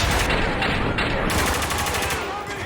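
Rapid automatic gunfire in a desert war video game set in Dubai, loud, dense bursts with no break, filling the whole moment.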